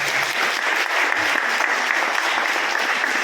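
An audience at a revival meeting in Shillong clapping loudly, a dense, sustained burst of applause filling the hall throughout.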